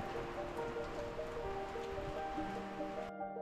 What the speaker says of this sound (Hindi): और अचानक बारिश भी शुरू हो गई।